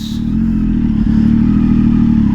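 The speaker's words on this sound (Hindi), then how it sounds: "वैसे भी मेरा एग्जॉस्ट भी बोलेगा कि मैं आ गया हूँ करके। भैया बहुत लाउड है एग्जॉस्ट" A BMW 1250 GS motorcycle idles with a loud aftermarket exhaust, giving a deep, steady, close rumble with a slight rev partway through.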